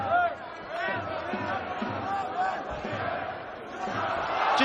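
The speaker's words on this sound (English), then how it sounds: "Big noise every time the home fighter lands" A boxing arena crowd roars and murmurs in a sustained, swelling wash of voices, rising toward the end, with a commentator talking over it.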